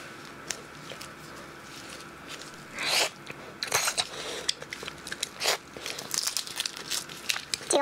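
Large tiger prawns dressed in red chili oil sauce are bitten and chewed up close. Wet crunching and crackling bites come in bursts that grow busier after a quiet start, with no talking.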